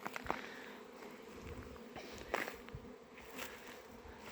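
Honeybees flying around apiary hives after their spring cleansing flight, a steady close insect drone with some passing buzzes over faint background noise.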